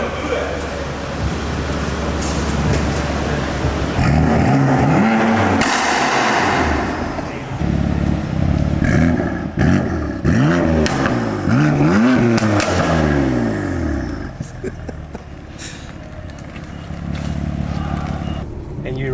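Loud BMW F80 M3 exhaust, fitted with a single midpipe and catless downpipes, revving hard and rising and falling in pitch with sharp pops, while people talk excitedly over it.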